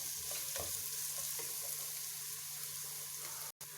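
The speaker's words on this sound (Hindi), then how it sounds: "जैसे ही आपका ऑनियन सोते हो जाए आपने गार्लिक पेस्ट डाल देना है" Onion and garlic paste fries in a pan for a spaghetti dish, a close, loud, steady sizzle with faint stirring scrapes, briefly cut off near the end, no talking.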